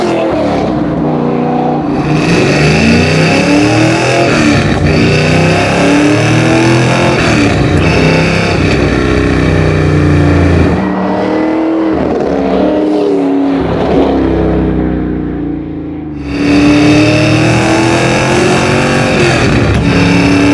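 Engine of the Eleanor Mustang from Gone in 60 Seconds, set up for street driving, revving with throttle blips, loud and close and continuous, dipping briefly before surging again.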